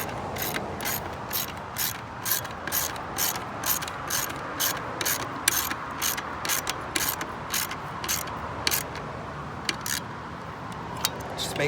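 A socket wrench ratchets steadily, tightening four bolts on a solar-powered gate controller bracket. The clicks come in quick, regular bursts, close to the microphone and moderately loud, over a low background hum.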